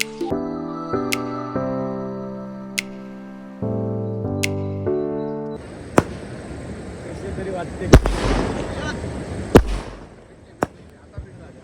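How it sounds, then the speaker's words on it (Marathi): Firecrackers are set off, with several sharp, loud bangs popping at uneven intervals over a hissing crackle after a stretch of music. "चलो आता हे लोक लावणार फटाके"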